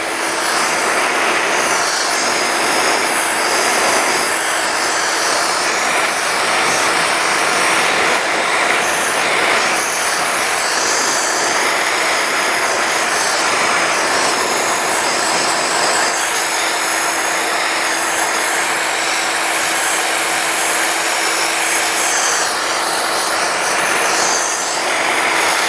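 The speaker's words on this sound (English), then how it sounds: "So I'm going to sandblast this little area." A sandblaster roars continuously as it blasts paint and rust off car bodywork, a loud, steady hissing rush that holds without pause.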